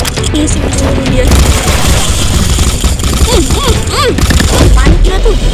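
Rapid gunfire bursts from the FPS video game Combat Master crackle throughout amid game effects and noise, loud and dense, with a player's voice chattering over the action.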